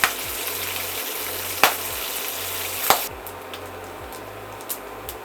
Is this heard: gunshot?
no